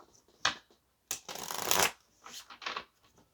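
Tarot cards riffled and drawn by hand, with a short flutter, then a longer burst of rapid shuffling, then a few softer slaps as cards are pulled, close and clear with no talking.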